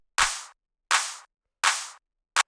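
Three long high-passed clap hits plus a clipped fourth, spaced evenly and dry, each a bright noisy burst with a decaying tail and no low end, made as a hypertrance drum sample.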